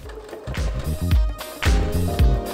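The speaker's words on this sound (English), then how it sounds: "Before I overlock the cap sleeve, I have to sew it together." A sewing machine stitching a cap sleeve together runs in two or three short bursts, each a quick rhythmic chatter of the needle, close and fairly loud in a quiet room.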